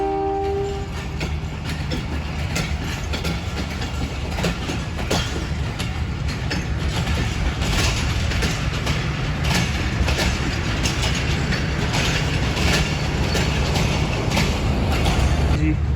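Train at Lahore Railway Station, with a steady, loud rolling rumble and rattle of rail cars that fills the whole stretch, and brief tonal horn blasts near the start.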